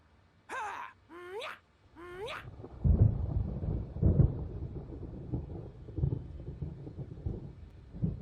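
Thunderstorm in the Alan Wake game: three wavering, moan-like cries come first, followed by deep, rolling rumbles of thunder that swell and persist to the end.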